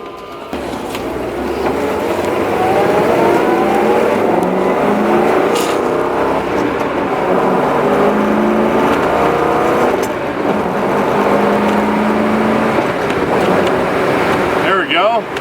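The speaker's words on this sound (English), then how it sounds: "I don't know if you can hear the air induction into the carburetors as I bang through the gears" A 1960 Chevrolet Biscayne's 348 V8 with triple carburetors and a four-speed roars loudly as it accelerates through four gears, its pitch climbing and dropping with each shift, with carburetor air induction and wind buffeting the microphone.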